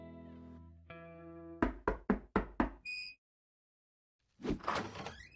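Five sharp knocks on a door in a quick, even series, close and clear, with a tonal sound before them and a burst of noise after a short silence.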